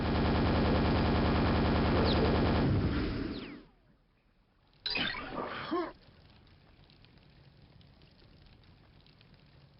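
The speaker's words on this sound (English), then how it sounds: "grenade shots like these in this hallway are just a matter of shooting and praying that they hit their target" In a Quake hallway, grenade launcher shots erupt as a dense, loud roaring blast lasting about three seconds. A short pause follows, then a second, briefer explosive burst, before a low background rumble settles in.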